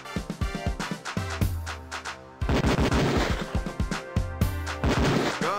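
Beretta pistol shots at a police shooting range in Police Quest 4, a rapid run of sharp, loud cracks with ringing tails, a brief pause, then another fast volley of shots.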